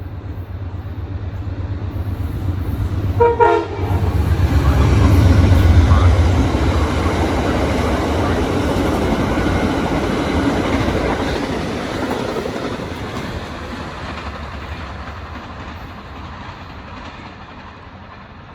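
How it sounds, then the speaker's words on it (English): Amtrak passenger train passing fast on track 3, a loud rushing rumble with clickety-clack that builds, peaks and fades over several seconds. "Here comes Amtrak."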